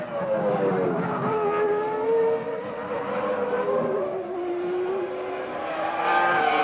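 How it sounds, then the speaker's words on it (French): A 1998 Ferrari Formula 1 car racing, its high-pitched engine whining steadily with rising and falling pitch as it shifts through gears, loud and continuous throughout. "La Ferrari passe en tête de la course."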